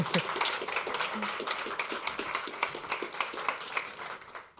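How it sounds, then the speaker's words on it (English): Audience applause after a startup pitch at an EU industry conference session in Belgium, a dense, steady wash of many hands clapping that fills the room for several seconds, with a host's voice faintly underneath. "Yes, an applause, please."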